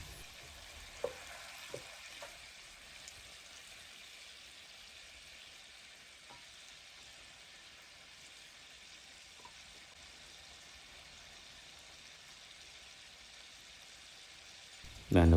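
Snails stir-frying in a pan with a splash of added water give off a faint, steady low sizzle with a few soft clicks and stirring knocks.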